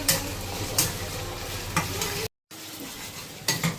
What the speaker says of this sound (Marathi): हे कांदा जरा चांगलाच परतोय सोनेरी ब्राऊन सारखा थोडा